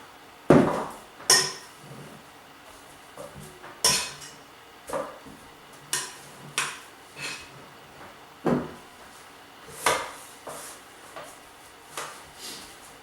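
A utensil clatters and knocks against a greased 2-pound baking tin while gluten-free porridge bread mixture is spooned in: a dozen or so sharp, irregular taps and scrapes, close by and alone.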